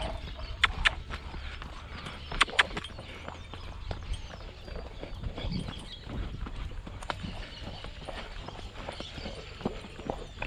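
Bull trotting on the ground, its hooves giving irregular clopping steps, some sharp and close, over outdoor background noise.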